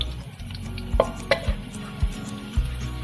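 Garlic tempering in a hot pan, a low steady sizzle broken by about five spaced knocks and scrapes of stirring.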